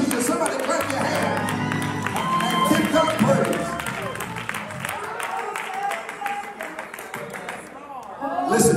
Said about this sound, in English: somebody clap your hand